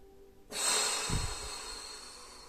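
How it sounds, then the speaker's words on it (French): A single close, deep breath from a sophrology instructor during a neck rotation exercise: a sharp intake followed by a long, slowly fading exhale in a quiet room. "Vous allez juste entendre le son de ma respiration"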